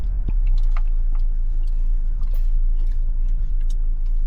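A vehicle rolls slowly along a bumpy, potholed road in Zambales, with a constant low engine rumble and scattered rattles and knocks as it jolts over the holes.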